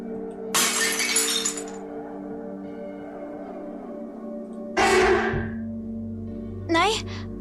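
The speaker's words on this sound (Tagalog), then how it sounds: "Biglang nahulog ang baso na kanyang hawak-hawak." A drinking glass slips from a hand while dishes are being washed and shatters, with one sharp breaking crash and then two more tinkling smashes and scattered glass sounds over a steady low background tone.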